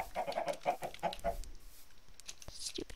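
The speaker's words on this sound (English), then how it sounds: "Stupid chickens." Chickens in the Minecraft video game cluck in a quick run of short, close, clipped calls that fade out halfway through, leaving a few faint scattered game sounds.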